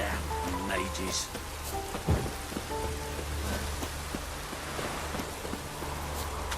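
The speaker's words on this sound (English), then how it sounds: "Rain again." Steady heavy rain pours in The Witcher 3, with a low rumble of thunder rolling through midway beneath the dense downpour.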